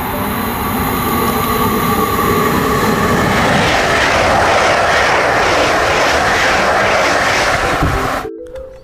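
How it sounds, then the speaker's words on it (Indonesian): A loud, steady rumbling roar like a rushing train from a toy high-speed train, sustained throughout with a whooshing quality, cutting off abruptly at the end. "Di sini ada kereta api cepat."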